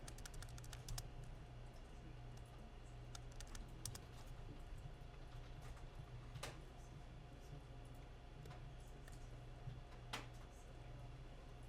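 Light clicking on a computer keyboard comes in scattered bursts of keystrokes over a steady electrical hum, quiet and fairly close, with no voice.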